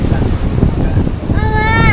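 Steady wind by the seaside rushes across the microphone in a continuous loud roar, and a brief tonal whine rises near the end.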